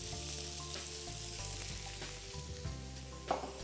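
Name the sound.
bacon and sweet yellow onion frying in a pan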